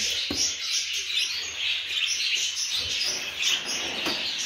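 Many birds chirp and tweet steadily at a parrot farm, a dense bright chorus of overlapping calls with a few louder nearby chirps, no talking.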